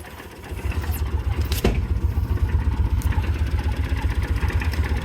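The engine of a 1995 Kawasaki Mule KAF620A utility vehicle idles steadily with a fast, even low-pitched chug, close by and continuous, with a couple of brief clicks over it.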